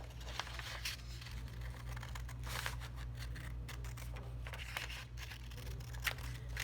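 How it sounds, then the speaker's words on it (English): Scissors snip through paper while cutting out quilt block pieces, giving short intermittent crisp cuts and rustles over a low steady hum. "The scissors are fine for paper cutting."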